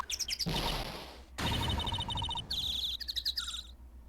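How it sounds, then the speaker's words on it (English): Rapid, repeated video game bird chirps and tweets come in bursts, bright and busy, separated by brief rushes of noise, with no talking. "those birds are really loud"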